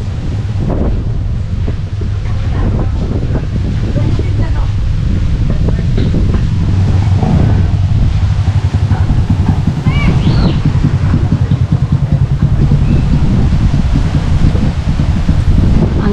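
Strong wind roars steadily across the microphone beside Pandin Lake, a loud, continuous gusty rumble with rustling, lasting the whole stretch.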